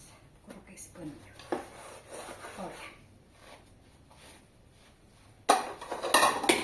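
A dirty pan scrubbed with a cloth in a home kitchen, with rhythmic rubbing and scraping strokes, close by, louder bursts near the end, and someone speaking in Portuguese over parts of it.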